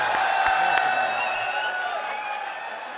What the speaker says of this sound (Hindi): जोरदार तालियां होनी चाहिए।